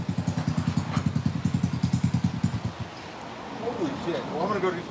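A small engine fitted with a Malossi RC One kit runs in a fast, throbbing pulse, loud and close for nearly three seconds before cutting out, followed by a voice speaking.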